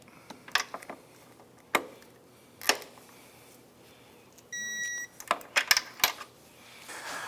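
Torque wrench set to 38 foot-pounds on a Can-Am Outlander ATV axle, giving a single short electronic beep midway, surrounded by scattered close metallic clicks and clanks of tightening.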